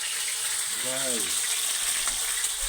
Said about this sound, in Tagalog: Prito na natin itong siumay.